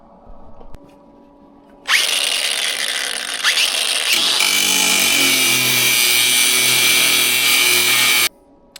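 A power tool cuts through the hood of a Lexus GX470, starting with a loud grinding screech that settles into a steady, high, continuous whine for about six seconds, close up and alone, before stopping sharply.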